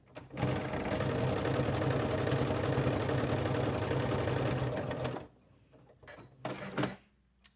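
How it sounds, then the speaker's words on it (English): A sewing machine stitches down the open edge of a Christmas stocking, a steady close whirring run for about five seconds before stopping, then a few short clicks and a brief burst of handling noise. "you're going to sew down that open edge all the way down"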